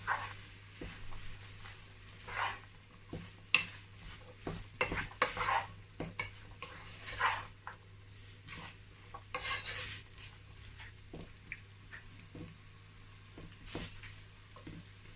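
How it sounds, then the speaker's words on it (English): Chicken pie filling being stirred in a pan, soft, irregular scraping and rubbing strokes with a faint sizzle and occasional clinks of the utensil against metal, close but quiet, with no talking. "I'm going to mix everything together."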